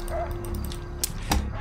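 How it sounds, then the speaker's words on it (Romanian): A dog in the video game GTA 5 gives a couple of short yipping barks amid low game background noise. "Nu mai lătra, mă, nu mai lătra"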